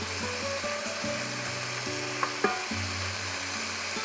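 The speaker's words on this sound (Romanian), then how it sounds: "O lăsăm puțin la rumenit, vreau să prindă puțină culoare, dar nu să se ardă." Chicken pieces browning in a pan for a chicken and vegetable stew give off a steady close sizzle and frying crackle, with a couple of brief clinks partway through and no talking.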